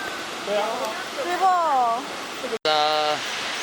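Steady roaring rush of the Shiraito Falls near Mount Fuji, Japan, fills the background while several people talk and exclaim over it.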